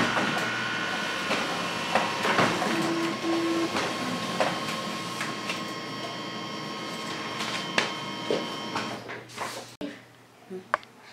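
A Canon MF221D laser printer runs a two-copy photocopy job, giving a steady mechanical whir and hum with clicks and clunks of paper feeding, then a few sharp knocks as it finishes.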